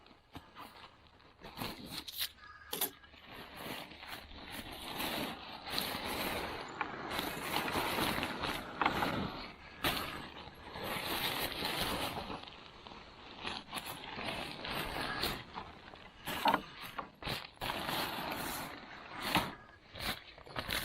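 Crinkling and rustling of packaging as a budget camping hammock kit with a nylon ripstop storage bag is opened and laid out, in close, irregular bursts of handling noise that rise and fall throughout.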